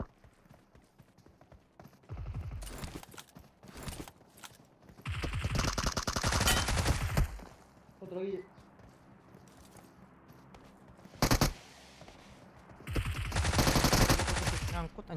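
Gunfire from bots in a mobile shooter game: bursts of rapid machine-gun shots come in several separate volleys, with a single sharp shot between them, over faint background game noise.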